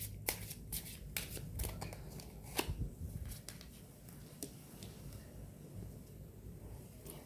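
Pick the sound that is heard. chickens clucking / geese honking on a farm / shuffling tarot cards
shuffling tarot cards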